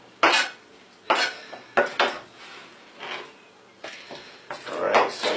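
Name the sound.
bowl and dishes being handled while plating food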